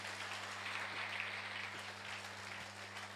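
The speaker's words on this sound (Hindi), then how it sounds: "ताली बजाओ जी एक दूसरे के लिए।" Audience applause at a motivational seminar, a steady wash of many hands clapping at moderate distance under a constant low electrical hum, continuing evenly without speech.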